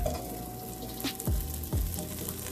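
A birria taco with cheese frying and browning in a pan, a steady close sizzle with a few soft shifts and scrapes as it cooks, no talking.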